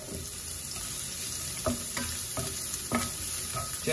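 Chopped garlic and onions fry in a pan with a steady close sizzle, broken by a few sharp stirring scrapes of a utensil; no one speaks.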